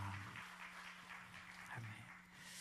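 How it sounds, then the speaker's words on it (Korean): Audience applause in a church service: a steady, soft wash of clapping from a seated congregation, faint and continuous for a couple of seconds. "감사의 박수 드리겠습니다"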